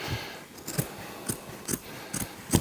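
Boat carpet snipped with scissors in a few distinct, close cuts spaced about half a second apart against a quiet background.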